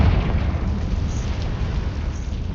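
A Confringo fire spell explodes in Hogwarts Legacy, a loud sustained rumbling blast with roaring low-end energy that holds steady without fading, and no voices.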